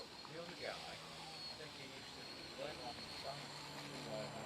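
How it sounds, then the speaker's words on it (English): A small RC model airplane taxis on the ground, its motor a steady whining drone under wind noise, with muffled voices at times. "Taxiing."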